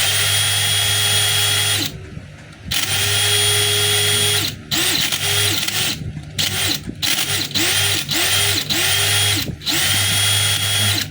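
DeWalt DCD796 18V cordless hammer drill, with a chuck that stops turning when held, whirs loudly in repeated bursts, spinning up and winding down several times with short pauses between runs.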